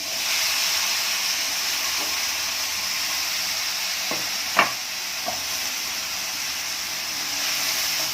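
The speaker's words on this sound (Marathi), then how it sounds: "हलवत राहायचं या कांद्याला आता दोन ते तीन मिनिट लागतील शिजायला" Onions fry in a pan with a soft steady sizzle and hiss, broken by a few scraping stirs and one sharper clink of the spoon against the pan.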